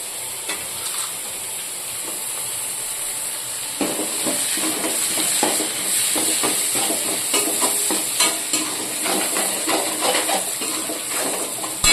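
Shallots sizzle in hot oil with ginger and garlic for a goat head curry, a steady close frying hiss broken by clicks and scrapes of stirring that grow busier partway through.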